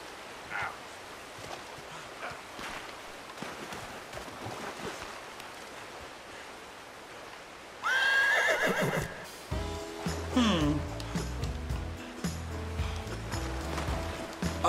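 A horse neighs and whinnies loudly in Red Dead Redemption 2, a sudden close call that cuts through faint ambient game sound, followed by a busier stretch of in-game noise.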